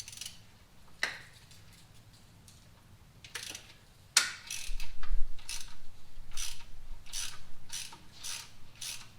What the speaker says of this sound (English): Take these bottom 4 bolts out,